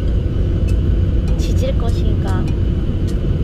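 A steady, loud low rumble fills an airplane cabin during takeoff on a flight to Jeju, while a person talks over it and faint clicks and rustles come and go.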